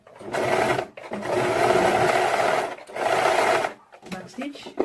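A sewing machine stitches black fabric in three sustained whirring runs separated by short pauses, close and steady with a motor hum under the rapid needle chatter.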